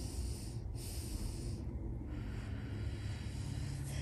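Steady inhale drawn into the rib cage during postpartum core exercise after a C-section, a close, continuous airy breath over low background noise with no talking.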